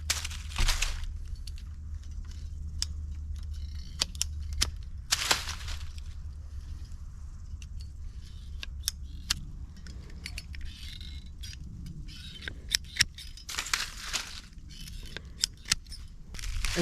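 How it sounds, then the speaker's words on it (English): Pruning shears snip small limbs off a cottonwood branch outdoors, with sharp scattered clicks and cuts and a few louder rustling bursts over a quiet background. "I'm going to trim off all the little limbs off of it"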